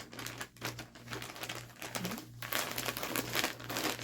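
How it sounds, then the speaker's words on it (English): Plastic packaging on knitting and spinning supplies crinkles and rustles in continuous crackly handling, close and moderately loud, with no voices. "Sorry for the crinkling."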